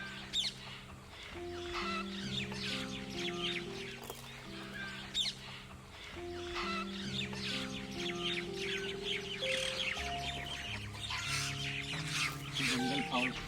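Red junglefowl calling in Kaziranga National Park, Assam: a series of clucking and crowing calls over a stretch of open wildlife habitat, mixed with other bird chirps and a steady ambient background.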